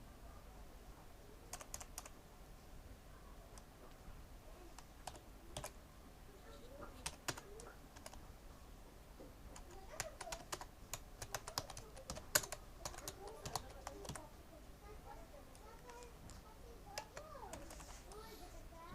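Keys clatter steadily as an email is typed on a computer keyboard, with irregular bursts of clicks at close range, fairly quiet, with a faint voice at times underneath.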